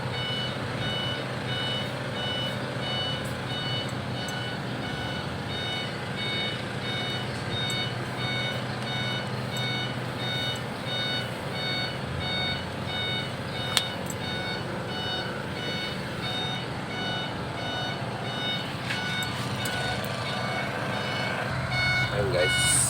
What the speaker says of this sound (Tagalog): pag kinabit ko to, magsasound na yung atras niya